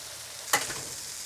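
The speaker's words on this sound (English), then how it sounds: "I'm gonna toast the buns over here." Burger buns toast on a hot griddle with a constant close sizzle, broken by one short scrape or clatter as a bun is set down.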